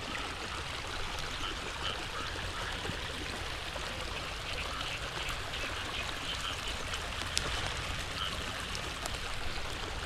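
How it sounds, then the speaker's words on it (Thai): Steady morning rain with storm runoff pouring across a flooded rice field, a continuous broadband wash of running and trickling water, fairly faint and unbroken, with no voices. "บรรยากาศเช้าๆครับฝนตก พายุเข้าครับ น้ำเต็มท้องนาเลยครับ"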